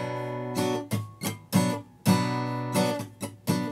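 Acoustic guitar strumming in a Spanish-language worship song tutorial, with several loud chord strums cut short by muted, choked notes in a steady rhythm, played alone with no talking.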